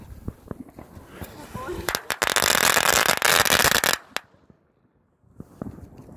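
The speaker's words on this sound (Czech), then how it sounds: "200 petard. Koberec." A string of 200 firecrackers crackles off in a loud, rapid burst of sharp pops lasting a couple of seconds, then cuts to near silence before scattered voices and clicks resume.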